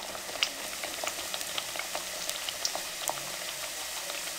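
Jaggery sweet patties fry in hot cooking oil with a steady, fine crackling sizzle dotted with small pops, close and moderately quiet, with no talking.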